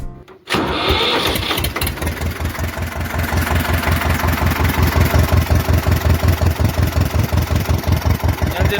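Eicher 364 tractor engine cranking over and catching, then settling into a loud, close diesel idle with a steady rapid thumping rhythm.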